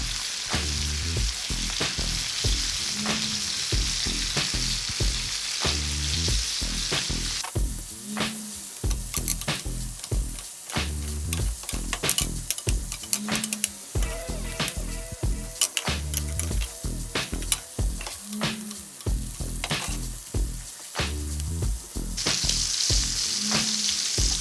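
A T-bone steak sizzles steadily in a hot pan, a loud continuous frying hiss with crackling spatter and occasional low thumps repeating throughout, heard close with no voices.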